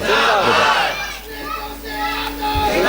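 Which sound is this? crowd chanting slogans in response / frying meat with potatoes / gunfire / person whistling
crowd chanting slogans in response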